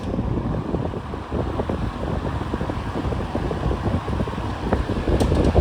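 Vintage Sears Homart box fan running on high, a steady low whooshing drone with faint irregular rattling, heard close with no talk.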